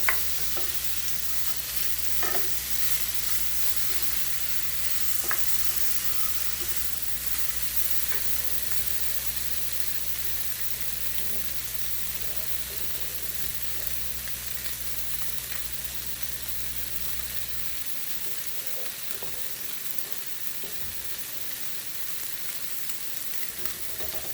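Pre-cooked sausage browning in a frying pan, an even, continuous hiss of sizzling fat with faint occasional ticks and pops, heard close and alone, with a low background hum cutting out near the end.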